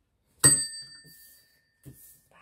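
A small handheld bell is rung once with a sharp metallic strike that rings out and decays, followed by a fainter second tap shortly after.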